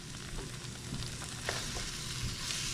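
A creamy paprika pork sauce with flour fries over medium-high heat in a pan, giving a continuous low sizzle with occasional soft pops and stirring sounds, heard close up with no talking.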